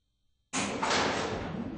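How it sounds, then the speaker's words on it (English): Lift doors on a faulty elevator slide shut, starting abruptly after silence with a loud steady broadband whoosh and rattle that holds to the end. "Doors closing."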